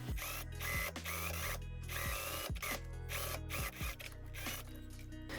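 A sewing machine stitches around the full neckline of a beginner skater dress, running in several close, steady motor bursts that stop and restart with brief pauses between them.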